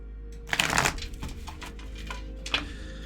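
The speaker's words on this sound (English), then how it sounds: "We're going to give these one more shuffle." Tarot cards being shuffled by hand: a brisk riffling burst near the start, then softer shuffling taps and a second short riffle later, close and clear over a low steady hum.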